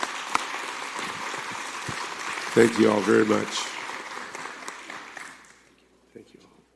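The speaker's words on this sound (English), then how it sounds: "I would love to have a round of applause for the hard work that they do every single day." Applause at a city council meeting: a room of people claps steadily for several seconds under a voice thanking them, then the clapping thins out and fades to quiet.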